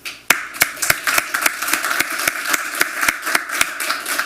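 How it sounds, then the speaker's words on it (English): Steady clapping from a small group at a city commission meeting, sharp claps in a quick, fairly even rhythm, close and clear with no one speaking. "There's always applause at the beginning."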